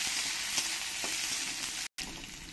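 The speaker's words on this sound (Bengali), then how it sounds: "দিয়ে ভালো করে একটু ভেজে নিতে হবে।" Ginger and garlic sizzle in hot oil with black cumin and dried red chillies, a close, steady frying hiss with faint stirring and a brief cut near the end.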